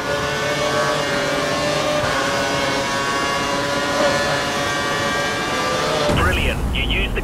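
Formula One race car engine in the F1 2012 video game, a loud, continuous high-pitched whine with steady revving during an overtaking run, with a sudden shift in tone near the end.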